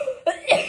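A single short cough, close and fairly loud, made up of two quick bursts of breath.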